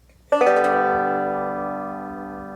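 A single strummed chord rings out on a resonator guitar with an aluminum cone, bright and metallic, slowly decaying after a sharp attack.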